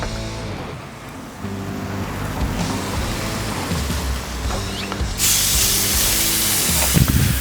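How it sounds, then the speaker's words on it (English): A small amount of oil hits a hot Loco Cookers griddle used for smash burgers and hisses in a low sizzle. Near the end it becomes a louder, broader spray-like hiss, with a steady humming tone underneath. "Cleaned it off, just put a tad bit of oil down"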